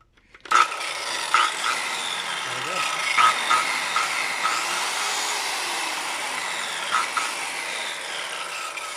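A blade rasps and scrapes around the power cord of a Mastercraft electric drill, close up, starting abruptly after a short pause and continuing with steady rubbing strokes and a few sharper scrapes.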